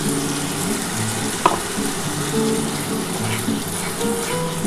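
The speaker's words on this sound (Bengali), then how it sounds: "এবার এই যে মশলার জলটা আছে বন্ধুরা, এই মশলার জলটা দিয়ে দিলাম।" Spice water is poured into a pan of frying pomfret fish curry, with a brief splash over a loud, continuous oily sizzle that bubbles steadily throughout.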